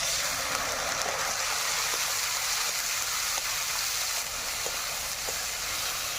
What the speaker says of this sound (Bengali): এখানে পেঁয়াজ আর লঙ্কাটা আমি ভাজা ভাজা করে নিয়েছি